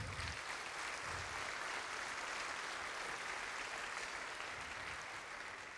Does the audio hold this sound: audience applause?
yes